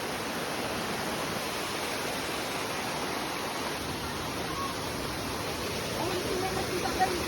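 Ar-arbis Falls roars as a steady, broadband rush of falling water, close and unbroken, with faint voices barely emerging near the end.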